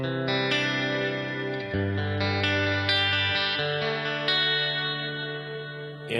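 Electric guitar through a Quad Cortex capture of a Kustom practice amp with delay added, a clean chord phrase of several sustained, ringing notes with echoing repeats.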